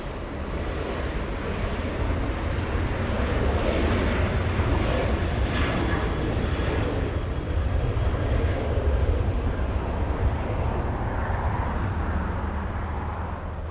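A Sun Country Airlines airliner at Los Angeles International Airport roars steadily as a broad, continuous jet rumble with light wind buffeting, holding loud and close throughout without any voices.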